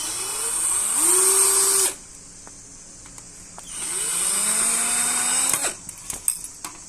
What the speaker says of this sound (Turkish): Bu üç vidayı yaptıktan sonra bakın şu üç vidayı da söküyoruz